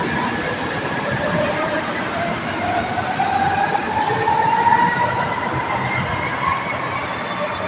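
An MRT metro train rumbles past nearby, a steady loud roar with rising wheel squeal and rail noise throughout.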